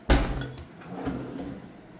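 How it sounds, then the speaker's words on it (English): A wooden drawer or cabinet door in an older home, without self-closing hardware, knocks open and shut with a sharp thump at the start. A lighter clack and a faint rattle follow, close by, with no talking. "These are not self-closing drawers or cabinets."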